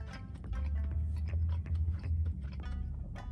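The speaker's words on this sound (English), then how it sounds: "Nice crispy, crunchy bacon." Someone chews a breakfast burrito filled with crispy bacon and egg close to the microphone, producing a run of soft, rhythmic crunches and mouth sounds with no talking.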